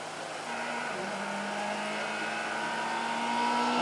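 Rally car on stage 14 of the Mull Rally 2019, engine note building steadily as it approaches, a sustained revving drone growing louder toward the end, heard alone without talk.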